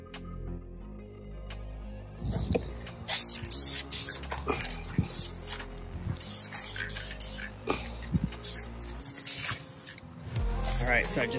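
Spray paint in pearl grey hisses onto a 1969 VW Bus cylinder tin outdoors in wind, coming in short, repeated bursts between clicks and handling noises, with someone talking at times.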